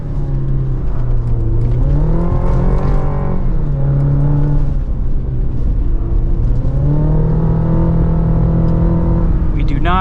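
A 2024 GMC Canyon AT4X AEV Edition pickup drives off-road in Baja mode with stability control reduced, its engine droning loud and steady, pitch rising and falling through the run, while a person talks over it.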